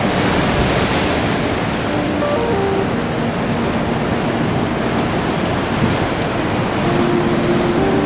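Ocean surf crashing and washing continuously near the shore at a Tahoe-area trip's coastal stop, a loud, dense roar of breaking waves that never lets up, with no voices heard.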